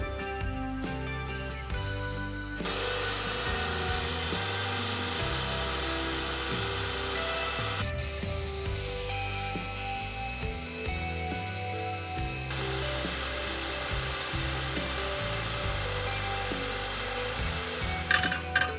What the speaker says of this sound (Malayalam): ഇനി ഇതിലേക്ക് വേണ്ടത് 1 കപ്പ് വിപ്പിംഗ് ക്രീം ആണ്. ഇത് നല്ലതുപോലെ ബീറ്റ് ആക്കി എടുക്കാം.